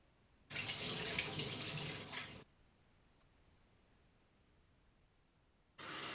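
A kitchen tap runs to fill warm water for a diet drink, splashing steadily into the sink for about two seconds, then stopping and turning on again near the end, with no voices.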